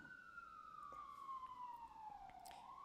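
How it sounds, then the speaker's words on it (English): An ambulance siren drifts past at a distance, one long wail sliding steadily down in pitch and then turning back upward, quiet and set against a low background hum. "let's wait for this ambulance to pass"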